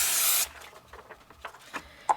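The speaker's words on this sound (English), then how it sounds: "I'm just going to spray it in the air now" Glue sprays from an aerosol can in one strong half-second hiss close by, followed by faint rubbing and light tapping as the tray and paper are handled.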